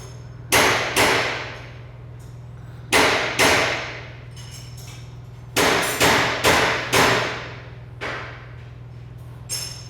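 Hammer blows land in quick pairs and triples while a Willys wagon is built, separated by pauses, each strike sharp and close over a steady low hum.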